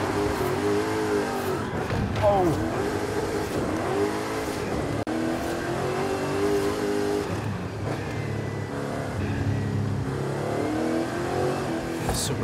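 The supercharged engine of a Trackhawk roars in Forza Horizon 5, revving repeatedly through rising and falling pitches with a supercharger whine, loud and close, and a brief tire squeal.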